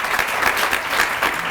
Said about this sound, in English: So they need a real round of applause because they are amazing, amazing people.